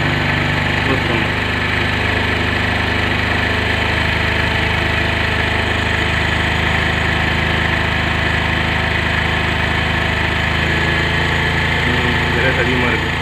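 A motorcycle engine idles at high revs, a steady loud drone that runs unbroken from start to finish during bike tuning for mileage.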